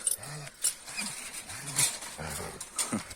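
Kangal dog, a purebred breed, giving several short barks or growly vocal bursts close by, with someone talking between them.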